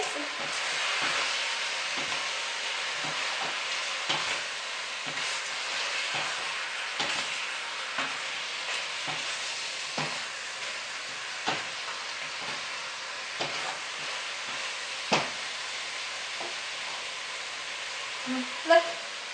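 Pork sizzling steadily in a pan with a splash of fish sauce, a constant close frying hiss with scattered small pops and crackles, no talk over it.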